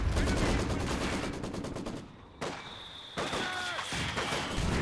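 Mortar and gunfire in a Company of Heroes 2 4v4 battle: a rapid rattle of shots, a brief lull, then renewed bursts and impacts at moderate distance.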